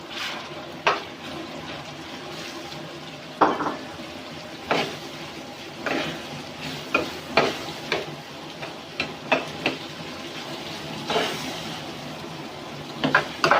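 Tomatoes and finely chopped green chilies frying in a pot over high flame for restaurant-style daal mash, a steady sizzle punctuated by irregular stirring clanks and scrapes, with no talk.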